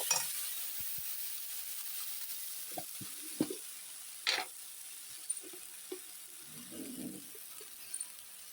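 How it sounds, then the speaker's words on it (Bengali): A mashed potato and pointed gourd mixture frying in oil is stirred in a pan, giving a faint background sizzle broken by scattered scrapes and knocks of the spoon against the pan, with no voices. "লবণ দিয়ে দিলাম এখন ভালো করে নেড়ে দিই"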